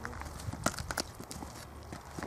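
A calm, gentle piebald mare trained for equine therapy walks toward a small paddock, her hooves giving a few soft, uneven clip-clops over a faint background hum with no talking.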